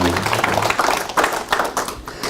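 Clapping from a church congregation fills the moment, a dense patter of hands mixed with a few voices, close and fairly loud.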